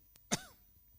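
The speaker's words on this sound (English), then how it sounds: "When I cough, it's very painful" A single short, sharp cough or throat-clear from someone speaking at a design conference talk. It is close and stands alone, with quiet room tone before and after.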